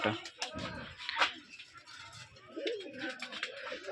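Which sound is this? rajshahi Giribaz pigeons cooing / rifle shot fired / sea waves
rajshahi Giribaz pigeons cooing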